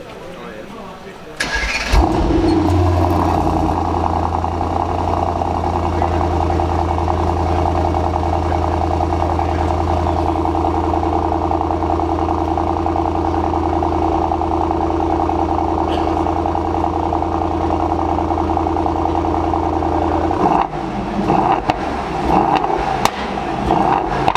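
A Mercedes-AMG GT63S 4-Door cranks and fires into a loud start-up rev, then settles into a steady deep idle for a long stretch before a brief final blip, with talk nearby.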